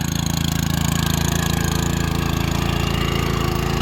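A 5.5 HP sugarcane rotary tiller engine running in second gear, a loud, steady, close mechanical drone with a fast even pulse throughout and no talking.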